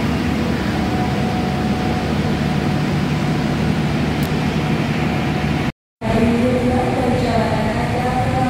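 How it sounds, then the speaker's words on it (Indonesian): The Jayakarta Premium passenger train rolls into platform 6 of a station, a loud continuous rumble of wheels and machinery droning close by, briefly cut off before resuming. "Rangkaian kereta api Jayakarta Premium masuk di jalur 6"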